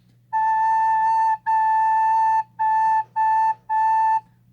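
Five tongued recorder notes on a single pitch, each starting crisply and held steadily, played up close with brief pauses between them.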